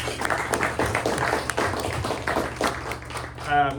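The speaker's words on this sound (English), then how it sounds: "Let's give them a round of applause." A luncheon audience, gathered for a press luncheon, breaks into sustained applause: dense, even clapping that fills the room at moderate loudness for several seconds, with a brief voice rising near the end.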